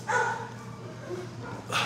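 Dogs barking and yipping at an animal shelter fundraiser run by Fort Bend County Animal Services, several short barks spread across the moment against a busy outdoor background.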